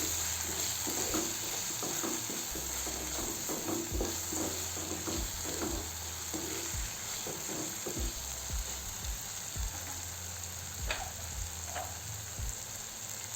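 Soybean bhurji masala with chilli powder and salt sizzles steadily in a pan as a spoon scrapes and stirs through it in a loose rhythm, close and continuous, with no talking.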